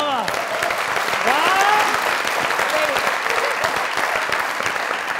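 Loud applause from a studio audience on a comedy talk show, dense continuous clapping with a few cheers and whistles rising over it, close and sustained for the whole span.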